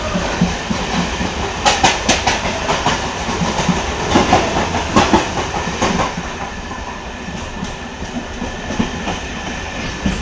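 A train pulls into Ranaghat Junction, rolling steadily on the rails, wheels clacking rhythmically over track joints, loud and close, with a low rumble underneath.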